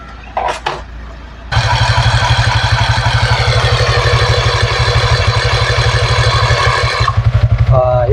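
A small electric air pump, powered from a cigarette-lighter port on a Yamaha Sniper 150 motorcycle, inflates the rear tire to 32 PSI. It starts abruptly after a few clicks and drones with a rapid, even pulsing, close and loud, then cuts off.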